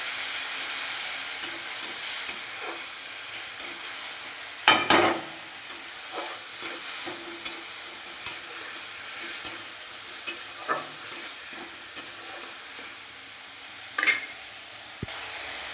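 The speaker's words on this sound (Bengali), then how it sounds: "ভালো করে মশলাটা কষিয়ে নেব" Spice paste with cauliflower fried and stirred in hot oil, a steady close sizzle broken by regular scraping strokes of a spatula against the pan, no talking.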